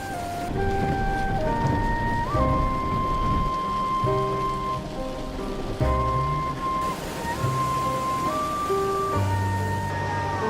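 Heavy rain pours with rolling thunder over the Swat valley in Pakistan, a continuous dense wash of rainfall heard under a layer of sustained tonal music.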